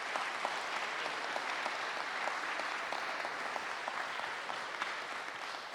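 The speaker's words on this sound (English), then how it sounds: "Please, once again, with a show of applause, express to our candidates our gratitude for them showing up this evening." An audience at a city council candidate forum in Charleston claps steadily, a dense, even wash of applause from a crowd indoors that holds for several seconds with no talking.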